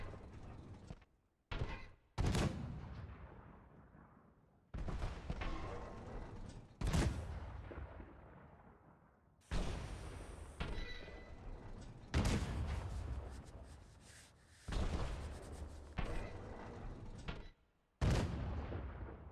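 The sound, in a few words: shooting in the video game Mundaun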